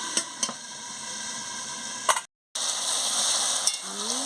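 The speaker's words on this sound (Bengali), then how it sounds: "আমি একটু ভালো করে কষিয়ে নিচ্ছি।" Meat with khamalu yam and sour yoghurt sizzles and crackles in a pan as it is sautéed, a steady close frying hiss broken by a few utensil taps and a brief pause.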